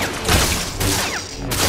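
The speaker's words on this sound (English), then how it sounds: "I literally just used a bomb!" A bomb goes off in the LEGO Star Wars video game, a dense, loud, rumbling burst of explosive blasts that fills the whole moment without pause.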